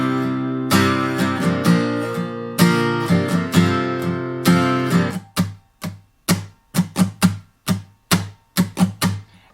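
A guitar strums the chorus pattern of a song, starting with several rhythmic bursts of ringing chords. It then shifts to a run of short, crisp, choppy strokes, heard close with no voices.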